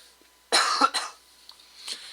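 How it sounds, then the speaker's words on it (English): One close, harsh cough burst followed by a couple of smaller coughs, with quiet pauses in between. "sorry about that cough"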